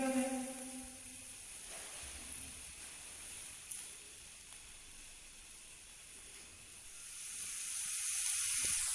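Faint, steady sizzling of meat medallions frying on an oiled electric griddle, a soft continuous hiss with little change throughout.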